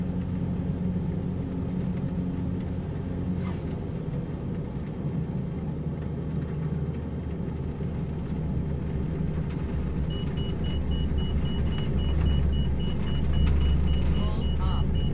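Steady, loud propeller aircraft engine droning at maximum RPM with the throttle pulled back, in Microsoft Flight Simulator, a dense continuous rumble holding through the whole stretch with a faint whine rising near the end.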